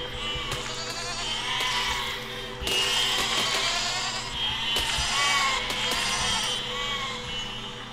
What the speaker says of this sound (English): Let's grind a sheep!